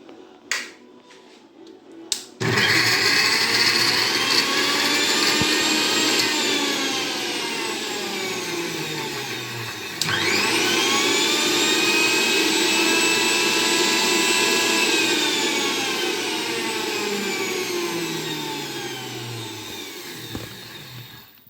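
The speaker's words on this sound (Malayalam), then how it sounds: "പുഴുങ്ങിയ മുട്ടയും പെപ്പറും ഗാർലിക്കും കൂടെ അടിച്ചതാണ് മിക്സിയിൽ." Mixer grinder blending boiled eggs, pepper and garlic, a loud close whirring motor starting abruptly and running steadily, pitch sagging and rising as the contents churn, with a brief stop and restart midway.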